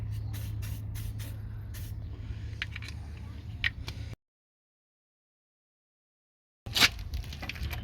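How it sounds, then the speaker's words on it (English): An aerosol rust-release penetrant hisses onto seized bolts during Toyota Sienna timing belt and water pump work. The short bursts of close spraying are broken by a silent gap and followed by a louder final burst. "using this specialist rust release."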